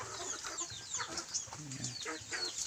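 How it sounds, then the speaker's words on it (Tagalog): Chickens cluck and murmur softly in short, irregular bursts while eating on a farm, fairly close, with scratchy pecking sounds mixed in. "At doon yung manok. Nakikain pa sila."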